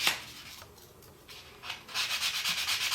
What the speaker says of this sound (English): these sanding blocks that I got from Potter USA